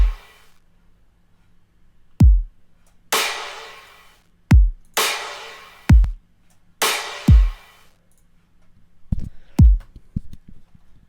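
Kick drum sample in a trap remix with EQ applied, played alone in a loose pattern: repeated punchy hits, some with a deep pitch-dropping boom and others with a bright noisy snap, ending in a quicker cluster of softer hits.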